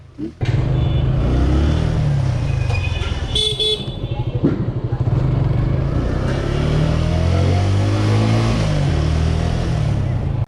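A lightly used second-hand motorcycle, built in 2024 with about 5,000 km on it, runs with a steady, close engine drone on a test ride, and short horn toots sound partway through.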